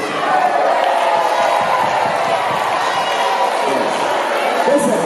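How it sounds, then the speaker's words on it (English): An audience at a 1983 year group 40th homecoming anniversary claps and cheers in a dense, continuous roar, loud and close, with shouts mixed into the applause throughout. "A round of applause for them,"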